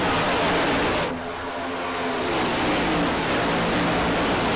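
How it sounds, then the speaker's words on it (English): Race cars roar past on a track in Las Vegas, a loud, dense wash of engine noise that swells and continues steadily, heard close up without talk. "Love to hear those cars come roaring past."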